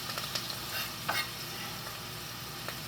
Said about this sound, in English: the oil is hot, so I'm gonna add my garlic seasoning